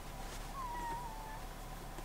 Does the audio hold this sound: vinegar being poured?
no